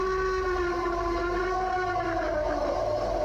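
A continuous, wavering howl from a broken siren, with layered tones that slowly bend downward, steady and fairly loud with no pauses.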